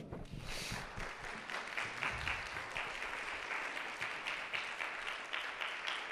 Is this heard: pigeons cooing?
no